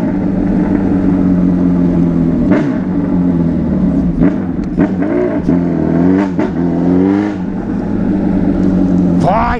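A Suzuki B-King motorcycle revs hard on a sheet of cardboard, its engine climbing and falling in repeated loud, close bursts, with voices in the background.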